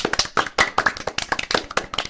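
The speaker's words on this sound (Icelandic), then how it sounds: "mikið klapp utan úr sal." Brisk hand clapping rings out from an audience hall during a circus-themed radio play, a quick run of sharp, distinct claps from a few nearby pairs of hands with no voices.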